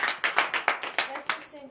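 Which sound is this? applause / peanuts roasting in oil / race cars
applause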